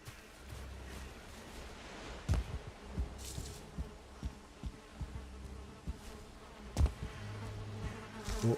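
Bees in the Valheim video game buzz around a beehive with a steady low insect drone, broken by several sharp clicks and thumps of gameplay.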